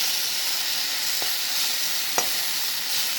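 Jute leaves fry in a pan tempered with black cumin and a dried red chilli, giving a steady, close sizzle with two sharp scrapes of stirring.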